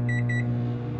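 A steady electronic hum with three quick high beeps near the start, like a microwave oven sounding close by.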